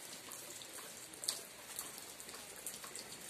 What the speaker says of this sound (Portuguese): E a água agora já tá caindo, é só chuva.